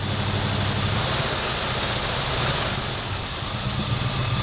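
A 1977 Ford F250 pickup's modified 351 V8 idles roughly, its low, dense rumble steady and close, with the engine faltering slightly toward the end.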